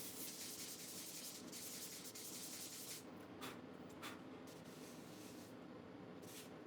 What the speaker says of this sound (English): I lightly hand sand the engravings with very fine sandpaper just to make them nicer to touch.